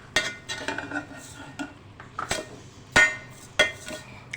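A spoon stirs rice with milk and sugar in a metal pot for zarda. Sharp clinks and scrapes of metal on metal come close up at an irregular rhythm, each stroke separate and loud with quiet gaps between.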